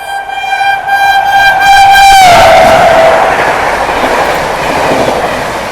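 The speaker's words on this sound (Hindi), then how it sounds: "हमारी ट्रेन को ओवरटेक कर रही है हल्दिया आनंद विहार।" The Haldia–Anand Vihar train overtakes on the adjacent track, its horn blaring a long, loud tone that bends down as it passes, followed by a roaring rush and rattle of wheels close by.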